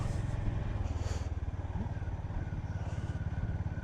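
A Honda GB350S, an air-cooled single-cylinder four-stroke of 20.7 hp, pulls away in first gear with a steady, close, low-pitched engine thump that runs without a break and never builds to a sharp rev.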